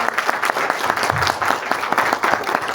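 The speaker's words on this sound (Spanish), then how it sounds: "Un fuerte aplauso, por favor, para ella." A seminar audience applauds steadily with dense, sustained clapping throughout, fairly loud and close.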